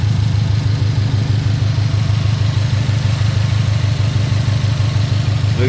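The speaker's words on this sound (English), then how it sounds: "obviously this is a cycling AC system" A Subaru engine idles steadily with a cycling air-conditioning compressor, giving a loud, continuous low throb with a regular pulsing rhythm and no talk over it.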